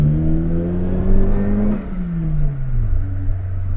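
A Daihatsu Mira TR-XX Avanzato Turbo's 660cc four-cylinder turbo engine revving hard and close, pitch climbing through gears with a brief drop near the middle, loud and alone without talk.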